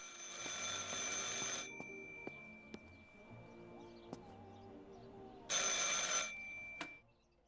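A telephone rings in the video game Martha is Dead, set in a quiet interior, with two loud bursts of electric bell ringing separated by several seconds of near silence and faint clicks.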